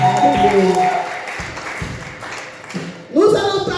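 A church congregation applauds during a service, with broad clapping and cheering swelling under and around a speaking voice, then rising sharply again near the end.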